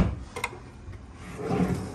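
A drawer in a wardrobe in a rented room is pulled, with a couple of quick wooden knocks followed by a soft sliding rumble, close and fairly quiet.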